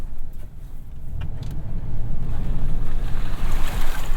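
Firestone Destination X/T tires hiss and splash through water as a 2001 Ford E-350 V-10 Sportsmobile RV drives on, the rushing spray swelling louder over a low engine rumble.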